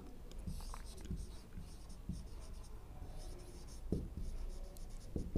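Chalk or marker writing on a board in a chemistry lecture, with steady scratching strokes and occasional taps heard close under faint background murmur.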